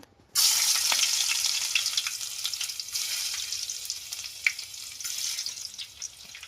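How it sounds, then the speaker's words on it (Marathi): Garlic dropped into hot oil in a heated kadhai for tempering before an Agri-style crab dish, a sudden loud sizzle that holds steady and slowly eases, with a few sharp pops. "थोडं लसूण टाकू फोडणीला."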